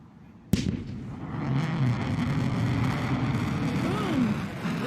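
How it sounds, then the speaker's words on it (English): A Blue Origin New Shepard rocket booster coming in to land sets off a sharp, sudden sonic boom, then a steady distant roar and rumble from the descending booster, with faint speech in the background. "Boom! There's the sonic boom."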